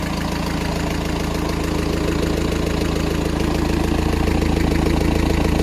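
A Great Wall GW2.8 diesel engine idles steadily just after starting, a loud, continuous clattering rumble with an even knocking rhythm, heard up close and alone with no talking.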